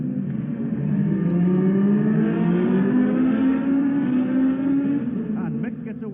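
Works racing motorcycles at the Isle of Man TT, a 500cc Suzuki among them, rev hard at the start, their engine notes climbing in pitch together, loud and close, before easing off near the end.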